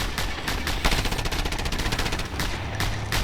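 Rapid bursts of automatic gunfire in the video game Just Cause 2 crackle continuously, dense and loud, with sharp repeated shots in a sustained volley.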